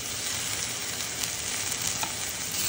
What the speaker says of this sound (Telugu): ఉల్లిపాయలు ఇలా కొంచెం సాఫ్ట్ అయిన తర్వాత ఇప్పుడు ఆకుకూర వేసుకున్నాము